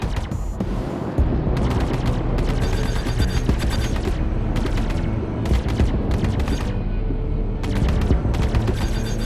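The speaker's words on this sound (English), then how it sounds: "Fire in controlled bursts. Give your weapons time to cool, or they'll overheat." Spaceship weapons in the Star Citizen video game fire in loud, rapid bursts, dense crackling volleys that stop and restart several times with brief gaps between them, over a constant rumbling engine hum.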